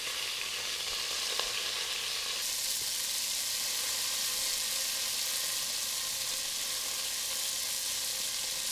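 Beef stew meat browning in a hot pan gives a loud, steady, close sizzle and crackle of frying that runs unbroken throughout, with no voices.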